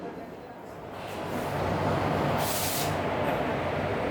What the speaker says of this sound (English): So that's a train with a WAP4 locomotive arriving at platform number 4